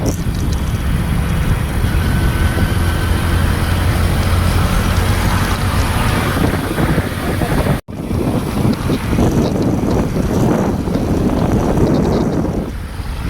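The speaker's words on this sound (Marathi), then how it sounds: "पाऊस पाऊस आला." Loud, steady rain roars without a break, a dense rushing hiss that dips briefly once midway and then carries on.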